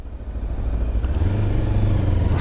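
A SINNIS Terrain 380 motorcycle on the move, its engine droning steadily and building slightly in pitch and loudness, close and continuous with wind rumble.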